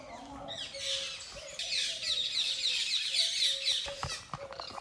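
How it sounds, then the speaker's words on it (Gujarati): Birds and chickens calling outdoors at an evening prayer time, a steady bed of high chirps and tweets with some lower clucks, moderately loud and continuous with faint background activity. "અહીંયા જો જે પક્ષીઓનો અવાજ કહેવાય ને એ આવે."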